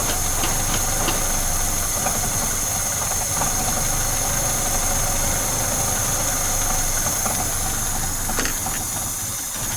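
A Peugeot 505 2.0 engine, converted from a single to a double barrel carburettor, runs steadily after tuning, a loud continuous close-up rumble with slightly raised revs and no talking.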